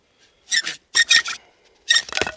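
Short bursts of harsh, raspy friction come in quick back-and-forth strokes of a bow drill spinning against wood, with pauses between the groups, the drill occasionally hitting a stump.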